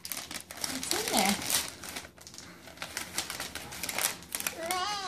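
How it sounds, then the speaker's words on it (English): Gift wrapping paper is torn and crumpled during a St. Nicholas Day present opening, with repeated crackling rips and crinkles close by, while a voice and another voice speak over it. "You have to rip the paper off."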